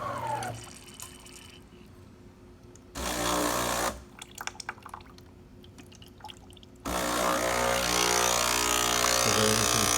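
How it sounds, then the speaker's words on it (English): A DeLonghi Magnifica espresso machine with a leaking steam valve hisses and sputters in loud bursts, with a steady mechanical hum and gurgling steam between them, close and noisy. "I'm going to show you how this steam valve is leaking."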